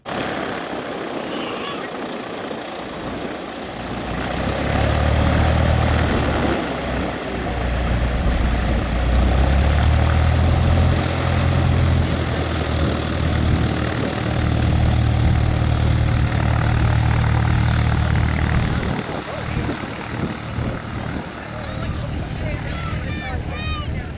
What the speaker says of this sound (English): And taking the runway after that was this Piper 177.